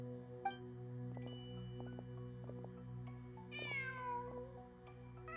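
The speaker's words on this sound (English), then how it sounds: "Just a cat." A cat in the video game Genshin Impact gives a clear, fairly close meow over a quiet ambient music bed, with a few faint clicks before it.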